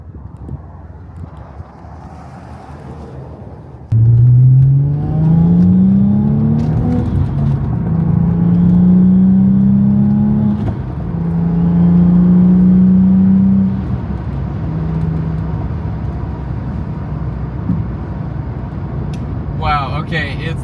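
An Audi B5 S4 with a stage 3 build driving, its engine note climbing through several rising revs and gear changes, loud and close from inside the cabin, with a voice speaking over it.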